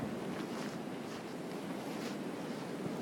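Wind gusting through a snowy street in a blizzard, a steady broadband roar of wind noise with surging swells, continuous and fairly loud with no voices.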